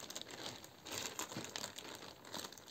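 A zip-lock plastic bag around a school backpack being handled and opened, with close, irregular crinkling and rustling of plastic in short bursts.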